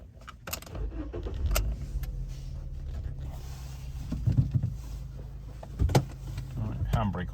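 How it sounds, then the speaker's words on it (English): A Fiat Punto cranks and starts, then settles into a low, steady idle heard from inside the car, with a few sharp clicks and clunks of controls over the engine hum. "I'll get it started again so we can listen to the engine"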